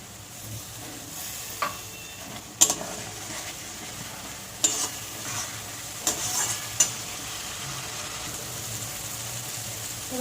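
Turmeric and spices frying in a pan as a splash of water is added, giving a steady, close sizzle with a few sharp clinks and scrapes of stirring.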